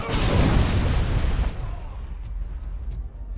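A grenade launcher explosion in Robocop: Rogue City, one loud close blast that rumbles for about a second and a half, then drops to a faint tail.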